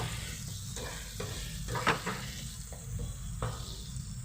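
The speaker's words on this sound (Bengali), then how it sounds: "লবণ এটাকে একটু এইভাবে মিক্স করে নেব" Salt being stirred into chutney in a bowl, with soft scraping strokes coming in short, irregular bursts and one brighter clink, fairly quiet and close, no talk.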